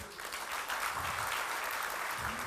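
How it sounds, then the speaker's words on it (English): A crowd claps steadily in sustained applause after a keynote speech, a dense even patter that holds for a couple of seconds. "Let's give her another round of applause"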